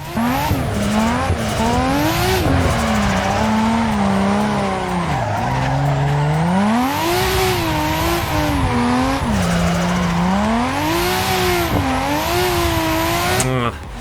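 A car drifts in the racing simulator Assetto Corsa, its engine roaring loud and continuous with rising and falling revs while tires squeal steadily through the slide for the whole stretch.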